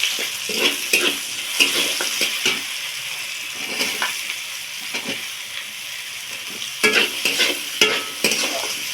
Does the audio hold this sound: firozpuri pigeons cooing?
no